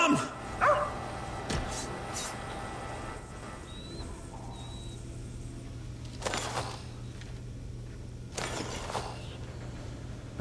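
A dog in the VR game Arizona Sunshine 2 gives several short barks and yips, scattered across a quiet game ambience with a low steady hum and occasional faint bird-like chirps.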